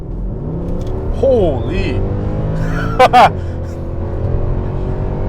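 A 2011 Mercedes-Benz C 63 AMG accelerates at full throttle on a road, its engine note rising steadily and loud throughout under the car's cabin drone, with a brief sharp exclamation from a voice partway through.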